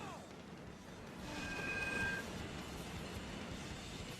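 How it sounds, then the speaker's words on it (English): A train rushes in during the Sonic Heroes video game, a broad roaring swell that builds and holds steady, with a brief ringing tone near its peak and a voice talking over it. "Here comes the train!"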